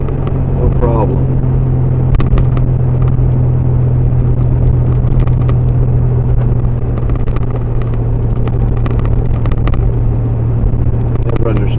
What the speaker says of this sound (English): this truck's got all sorts of creaks and cracks